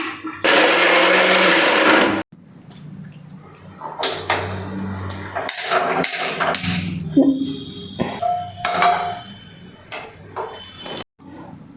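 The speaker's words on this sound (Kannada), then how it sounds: "ಟೊಮೆಟೊ ಗ್ರೈಂಡ್ ಮಾಡ್ಕೊಳ್ಳೋಣ." A kitchen mixer grinder whirs loudly for about two seconds while grinding tomatoes for paneer butter masala, then stops, followed by clattering jar handling and scattered kitchen knocks.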